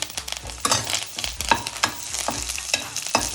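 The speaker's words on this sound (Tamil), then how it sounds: "அடுத்து கருவேப்பிலை போடுறேன்." Curry leaves crackle in hot oil with ginger-garlic paste while cooking a button mushroom gravy. A close, loud sizzle is broken by repeated rhythmic stirring scrapes.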